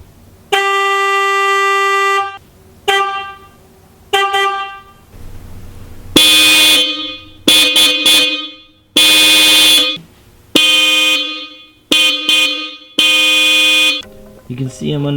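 Hella aftermarket horn fitted to a Mazdaspeed3, sounding loudly at close range in a series of honks: one long blast, several short toots, then repeated blasts of about a second each with brief gaps between.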